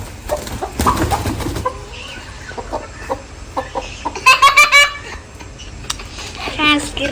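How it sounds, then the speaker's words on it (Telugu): Giriraja chickens cluck and squawk close by, with a rapid burst of loud calls midway and another near the end, while people talk between them. "గిరిరాజు కోళ్ళు అనమాట"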